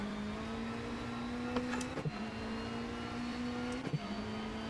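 A steady, low Mitsubishi rally car engine drone in a video game holds a constant pitch, briefly dipping twice as if shifting gears, with no talking.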